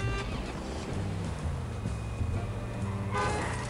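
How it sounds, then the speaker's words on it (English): Car horns honking in the mobile driving game Does Not Commute, several toots and blasts layered over engine drone and game sound effects, with a louder horn swelling near the end. "I like how they honk at me."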